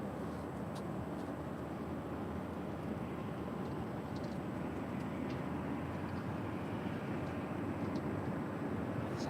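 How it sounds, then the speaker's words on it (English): A Spirit Airlines Airbus A320neo arriving at LAX from Oakland, a broad steady jet roar heard from a distance, holding at an even, moderate level with no talk. "here is Spirit 3842 coming from Oakland, California. It's an A320 Neo delivered in July of this year."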